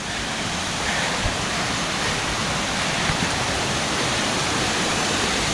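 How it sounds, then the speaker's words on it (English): Thomasson Foss waterfall plunges into its plunge pool with a constant, loud, full-bodied rushing roar that stays steady throughout. "the epic Thomasson Foss waterfall with a plunge pool"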